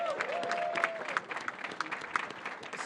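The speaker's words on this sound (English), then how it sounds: "I want to give you another round of applause." Audience applause at a New York event celebrating a landmark agreement with Governor Hochul and advocates, a dense burst of clapping that holds steady for a few seconds with a thin tonal whistle over it.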